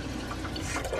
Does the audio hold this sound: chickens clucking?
no